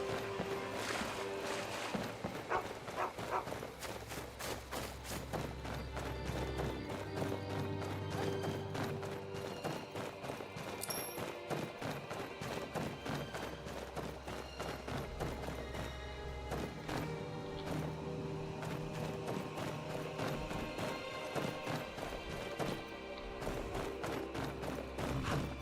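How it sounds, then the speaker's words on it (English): Horse hooves clip-clop at a steady trot in Skyrim, underneath a busy bed of music and game effects that runs throughout at moderate volume. "Should be my horse now."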